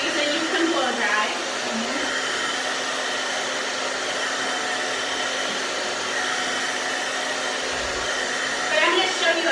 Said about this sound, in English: If you're in a hurry for whatever reason, you can blow dry.